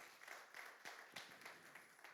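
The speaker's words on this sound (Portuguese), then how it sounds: "Dê uma salva de palmas com força." Church congregation clapping together, a faint, fairly even patter of many hands with slight rhythmic pulses, heard from a distance in a reverberant hall.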